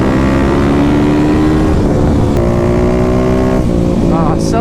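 Kawasaki KLX300 dirt bike (2021) fitted with a Barker exhaust, riding at speed with a loud, steady engine drone that climbs in pitch toward the end, close and continuous throughout.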